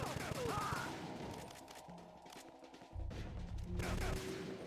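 Rapid gunfire bursts in Metal Gear Solid 2: Substance, dense crackling shots repeating over a steady game soundtrack hum, loud and continuous across the clip.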